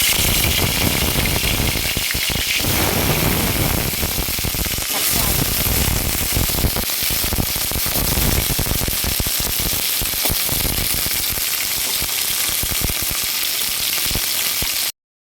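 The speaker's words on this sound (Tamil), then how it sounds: "கடாய் வச்சு ஆயில் விட்டுட்டேன் காஞ்ச மிளகாய் போடுறேன்" Dried red chillies sizzle and crackle in hot oil in a kadai, a loud, dense, unbroken frying hiss with sharp popping bursts running steadily throughout.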